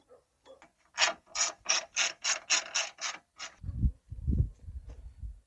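Rapid rhythmic ratchet clicks from a hand tool tightening fittings on an aluminum radiator in a Jeep Grand Cherokee, a steady run of about ten close, crisp pulls followed by lower rattling handling noises.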